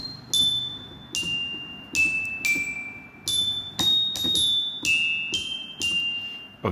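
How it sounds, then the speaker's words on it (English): Glockenspiel voice played on a Yamaha PSR-SX arranger keyboard: about ten bright, ringing struck notes at a steady pace, each with a quick attack and short decay, played alone with no talking. "so that is the sound of the glockenspiel"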